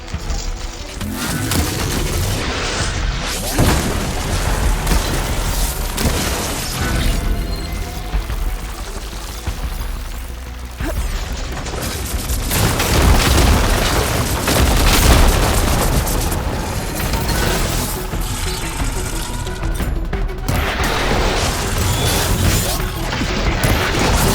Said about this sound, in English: Hopefully they can also fire a few shots from that ballista.